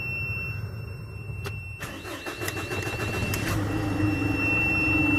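An Isuzu NPR truck's diesel engine cranks briefly after a click, catches and settles into a rough, rising idle, heard fairly close with no talking.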